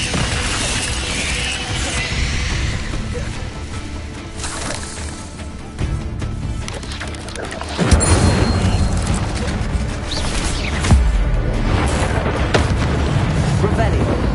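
Incendio fire spells are cast in Hogwarts Legacy with roaring, crackling bursts and heavy booming impacts, several surges rising and falling across the stretch, loud and layered over game music and voices.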